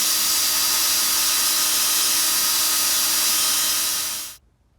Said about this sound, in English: I'd just film the entire drilling out process and let it play for you